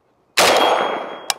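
A single loud, close shot from an Arsenal SAM5 rifle with a 16-inch barrel, fired at a Level IIIA ballistic mini shield, with a sharp onset and a long ringing decay, then a brief metallic knock near the end.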